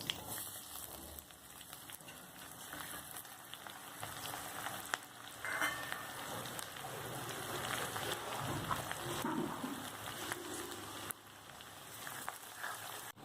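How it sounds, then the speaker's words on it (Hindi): Chopped onion and green cardamom fry in a pan for a paneer pulao, giving a continuous close sizzle and crackle with occasional stirring scrapes, steady throughout without talk. "थोड़ा सा हल्का सा फ्राई कर लेंगे छोटी इलायची को, थोड़ा फ्लेवर आ जाए, फिर हम लोग डाल देंगे अभी कटा हुआ प्याज।"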